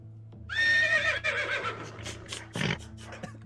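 A horse named Bear lets out a loud, close whinny that rises and quavers for about a second, followed by scattered thumps and softer rustling noises.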